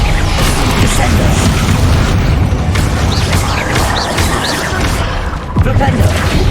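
A Descendo spell cast in Hogwarts Legacy during a final boss fight, a loud, dense rumbling blast with booming crashes that fills the whole stretch, over the busy din of combat.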